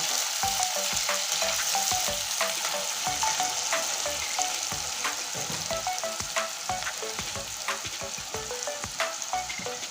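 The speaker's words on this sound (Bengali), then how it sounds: "এবার পেঁয়াজটা লাল করে ভেজে নেব" Sliced onions fry in a pan until browned, producing a constant, close sizzle with frequent sharp crackles and pops, along with light scraping as they are stirred; nobody speaks.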